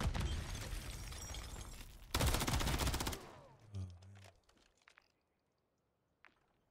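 SMG fire in a ranked online shooter: a loud sustained burst of rapid shots, then a sharp break-like crack and scattered fainter impacts fading into near silence.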